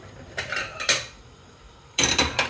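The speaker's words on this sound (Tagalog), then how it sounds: "haluin lang natin to. Pag haluin, lang natin." A spoon clanks and scrapes against a pot while beef stew is stirred, giving a few sharp metallic knocks in two short bursts close by.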